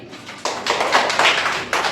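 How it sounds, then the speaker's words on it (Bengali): A loud round of classroom clapping for two children in a first-grade math class, a dense patter of many small hands that swells in and holds steady, with a brief dip and renewed burst near the end. "তোদের দুইজনের জন্য জোরে একটা হাততালি"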